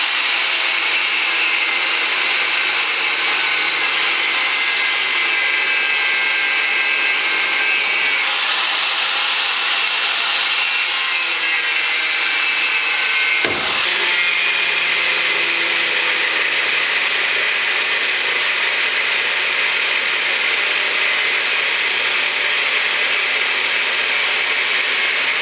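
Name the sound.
power tool cutting out old U-bolts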